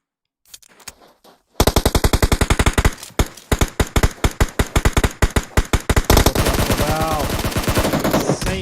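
Video game gunfire from an M24 rifle and a machine gun rattles in rapid, loud bursts of dozens of shots that merge into a dense, continuous volley near the end.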